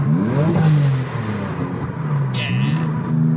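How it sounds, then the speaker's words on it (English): A modified 700 hp Porsche 996 Turbo downshifting, its engine note dropping and swelling loudly up close with whistle and whoosh from the turbos, with some talk over it. "that downshift was really exaggerated, but I just wanted to hear the turbos"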